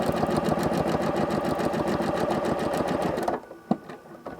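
A sewing machine doing free-motion quilting runs in a fast, steady, close stitching buzz for about three seconds, then stops abruptly, leaving a couple of faint clicks.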